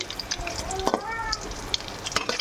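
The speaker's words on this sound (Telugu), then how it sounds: "వంకాయలన్నీ బాగా నీట్గా ఇందులోనే వేగిపోయాయి" Eggplants frying in hot oil give a steady crackling sizzle, with scattered sharp pops and spits over a soft background hiss, close and moderately loud, plus a few faint tonal squeaks.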